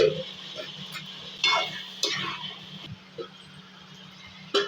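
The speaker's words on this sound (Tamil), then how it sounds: "உருளைக்கிழங்கு தோலை உரித்து கட் பண்ணி வச்சுருக்கேன் அதை இதில் போடுறேன்" Cut potatoes dropped into sizzling tomato masala, with a soft continuous frying hiss and several sharp clatters and scrapes of a spoon stirring in the pot, close up with no talk.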